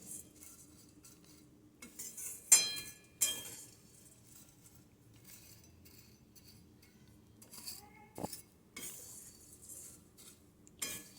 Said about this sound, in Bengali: নাড়াচাড়া করে ভালোভাবে চিড়েটাকে ভেজে নিতে হবে।